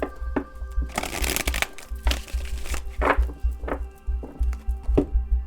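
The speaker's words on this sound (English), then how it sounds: "Last shuffle." A deck of tarot cards is shuffled by hand at close range, giving loud riffling bursts followed by a series of sharp, rhythmic taps and thunks as the cards are squared, with a low hum underneath.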